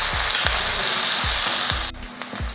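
Onion, ginger, garlic and curry leaves sauté in an oiled pan with a steady close sizzle, punctuated by regular scraping strokes of a spoon stirring them.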